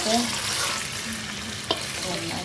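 Food frying in oil in a pan while being stirred, a steady close sizzle with scraping strokes and one sharp clink near the end; no one speaks.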